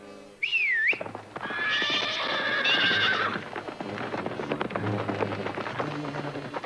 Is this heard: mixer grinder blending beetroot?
no